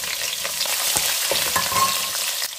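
Green chilies sizzle and fry in hot oil with cumin seeds, a steady close crackle with small pops and occasional stirring, no voices.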